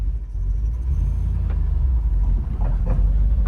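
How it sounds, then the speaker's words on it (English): A black 1969 Ford Mustang Boss 429 with an S-code motor pulls away down the road. It gives off a deep, steady, close exhaust rumble without any talking. "We're gonna take this black S motor Boss 429 down the road"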